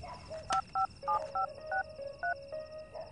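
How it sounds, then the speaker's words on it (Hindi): A telephone dialed to call an ambulance, a quick sequence of about seven short touch-tone beeps at an uneven pace, quiet and close, with a faint steady background hum. "एम्बुलेंस को फोन करो"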